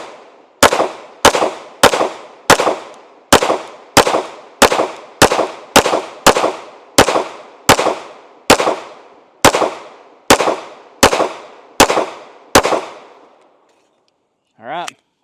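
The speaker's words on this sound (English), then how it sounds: "let's just shoot a magazine of 9 at it and see what happens" A Staccato P 9mm pistol with a 5-inch barrel fires a 20-round magazine at body armor: about eighteen loud, close, evenly spaced shots with short decaying echoes, then a brief pause and a quick burst of voice.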